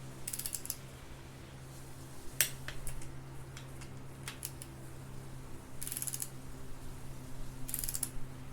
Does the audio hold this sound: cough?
no